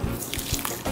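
Milk is poured into a bowl of meatloaf mixture with onion powder, garlic powder and seasoning, making a short, close, gurgling splash of liquid that lasts about a second.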